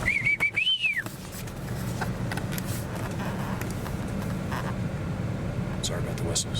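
A person whistles a short rising-and-falling call outdoors at ten degrees, the tone lasting about a second at the start before giving way to a steady low outdoor rumble with faint scattered clicks.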